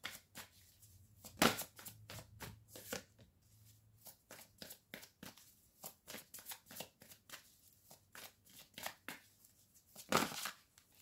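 Tarot cards riffled and shuffled by hand, then laid out, producing a rapid run of crisp close flicks and slaps with brief pauses, loudest bursts near the start and end.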